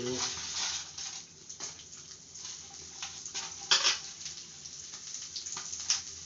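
Chillies, shallots, garlic and ginger sautéing in a pan, a soft steady sizzle punctuated by clinks and scrapes of a stirring utensil against metal, close by, under someone speaking.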